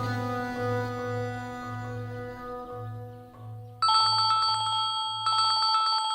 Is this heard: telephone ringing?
yes